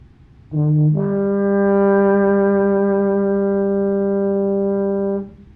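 A single sustained baritone horn G held steadily for about five seconds, rich in overtones, loud and close, with a brief lower note at the start.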